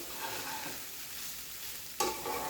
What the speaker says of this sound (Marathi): ते आपल्याला सगळं हलवून घ्यायचं पूर्णपणे.